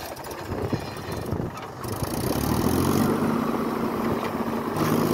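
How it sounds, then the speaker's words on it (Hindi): Mahindra 265 DI tractor engine starting up in a field, a diesel turning over then settling into a steady rumbling idle that grows louder and holds, with no talk. "तो स्टार्ट करो ट्रैक्टर एक बार चला के दिखाओ।"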